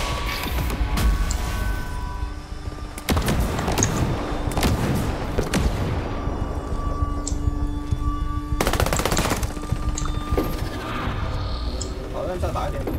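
Bursts of machine gun fire and other gunshots ring out during a critical-difficulty raid in the video game Ghost Recon Breakpoint. Dense game noise runs throughout, with the loudest bursts partway through.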